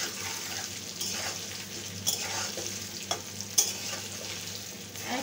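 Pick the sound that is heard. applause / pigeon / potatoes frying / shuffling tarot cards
potatoes frying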